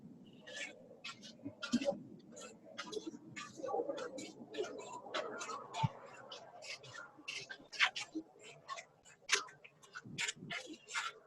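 Wild birds at Torrey Pines, California quail among them, call in repeated short chirps and coos, a busy overlapping chorus with soft low sounds beneath.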